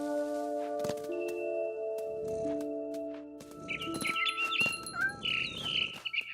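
Bright, tweeting bird chirps from the mama bird in What Remains of Edith Finch arrive in quick bursts over a steady sustained tonal game backdrop, clearest in the latter half.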